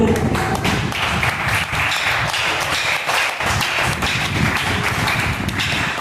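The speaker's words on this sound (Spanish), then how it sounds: "Denle un aplauso al Señor" A church congregation applauds, producing dense, loud, continuous clapping with a slightly rhythmic, pulsing texture that holds evenly for several seconds.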